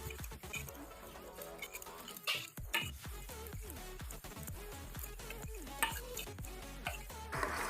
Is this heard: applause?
no